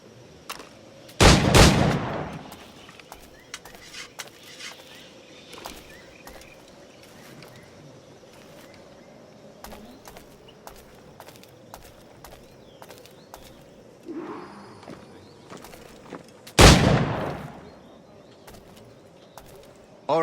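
Two loud flintlock-style firearm shots ring out in the pirate-era game Assassin's Creed 4: Black Flag, far apart, each a sharp blast with a trailing echo, over soft ambient bird cooing and faint background noise.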